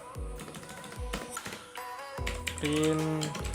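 Keys clatter on a computer keyboard as Python code is typed, quick close taps in short runs, with a voice talking over part of it.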